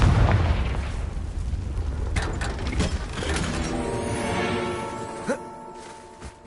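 Confringo explosive spell in Hogwarts Legacy combat: booming blasts and mechanical clatter roll through the scene, with ringing tonal effects and a few sharp pops near the end.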